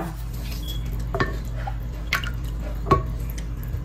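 Dissolved cornstarch slurry is poured and stirred into a maja blanca mixture, giving a low wet background with a few spaced utensil clinks and drips against the pot, close and moderately quiet.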